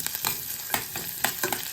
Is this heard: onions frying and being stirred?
yes